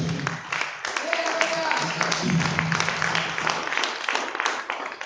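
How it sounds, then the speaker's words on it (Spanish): A church congregation standing to give an offering of applause to the Lord, scattered clapping from many hands under a loud voice speaking over it. "Póngase de pies, den una ofrenda de palmas al Señor."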